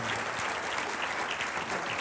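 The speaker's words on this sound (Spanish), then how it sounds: "Vamos a dar un aplauso." Steady, dense applause from a church congregation at the close of a service, loud and continuous clapping throughout with no pauses.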